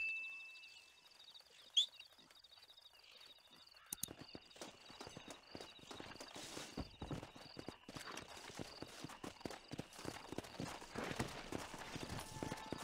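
In the Red Dead Redemption video game, a horse approaches with hooves clip-clopping in a quick, steady rhythm that grows from faint to fairly close, over a light ambient hum.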